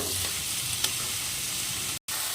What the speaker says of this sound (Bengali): এখন এর মধ্যে দিয়ে দেবো চিকেন কিমা বা চিকেন কুচি দিয়ে আবার একটু নেড়ে ছেড়ে ভেজে নেব